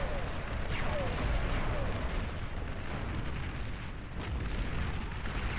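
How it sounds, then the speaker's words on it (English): Artillery shells fire and burst in a dense, rumbling barrage in the strategy game Beyond All Reason, booming continuously beneath a commentator's talking. "Will be eliminated by an artillery shell."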